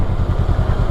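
A 2023 Honda Rebel 500 motorcycle engine rumbles nearby with a deep, throbbing low pulse, running steadily throughout.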